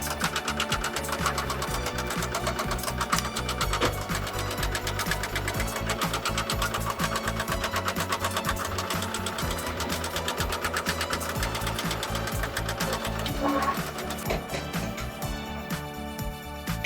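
A factory machine threads bristles into a brush with a fast, rapid-fire mechanical clatter. The rhythmic pecking runs continuously, loud and close, with a slight change in pattern near the end and no voices.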